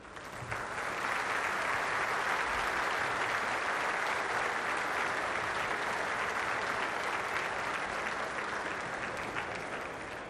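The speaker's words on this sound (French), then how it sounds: "Mesdames et messieurs, je vous demande d'applaudir." Audience at a ceremony at the Merlebach headquarters applauding, a dense, sustained wash of clapping from a large crowd that swells quickly and holds steady before easing slightly at the end.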